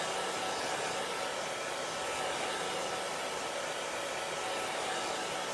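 A hair dryer blows steadily to dry chalk paste on a wooden cutout, giving an unbroken, even whoosh that runs alone the whole time with no talk.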